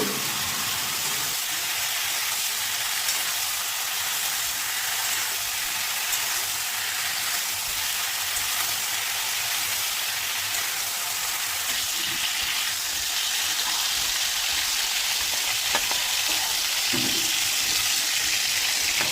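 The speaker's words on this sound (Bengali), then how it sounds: "লবণ আর হলুদ দিয়ে লালচে করে ফুলকপিগুলোকে ভেজে নেব" Cauliflower with salt and turmeric fries in a pan, a steady dense sizzle that holds evenly throughout with a few faint stirring knocks.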